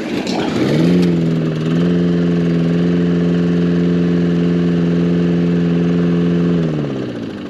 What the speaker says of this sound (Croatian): Evo, vidjeli ste kako pali kosilica koja se održava.